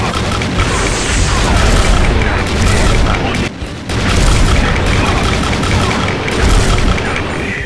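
Rapid gunfire from the shooter video game XSHOT, loud dense bursts of shots and booms running almost continuously, with a brief drop in the middle.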